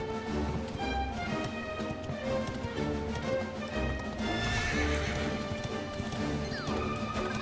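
In the video game Dragon Quest XI, a horse whinnies loudly and hooves clop in a rhythmic run, with a crash partway through, all close and prominent over game music and ambience, no talking.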